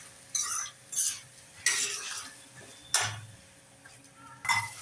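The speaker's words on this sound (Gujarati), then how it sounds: "લીલી તુવેર, ફણસી અને ગાજરને. આ બધા શાકને હવે મિક્સ કરી લઈશું" Pigeon peas, green beans and carrots stirred together in a metal pan with a spoon, making several distinct scraping, clinking strokes at an uneven rhythm, close and fairly quiet.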